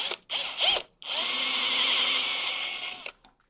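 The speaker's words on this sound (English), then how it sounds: "Now that we have our pilot hole drilled, we can make it a little wider." A power drill widens a pilot hole in metal for an all-metal dagger build: two short whirring bursts, then a sustained, fairly loud high drilling whine lasting about two seconds before it stops.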